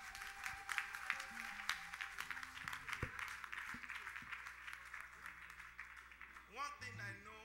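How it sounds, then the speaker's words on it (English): A church congregation claps for Jesus during a service at Universal Christian Ministries in Minnesota, a dense, steady roar of many hands filling the room, with voices mixed in beneath it. "clap for Jesus"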